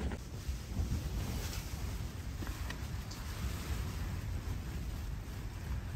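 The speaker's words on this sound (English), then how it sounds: "As you can see, it's a bit windy in here" Steady, roaring wind buffets and flaps against lightweight tent fabric close to the microphone in the Black Mountains, a continuous rushing noise with no voices.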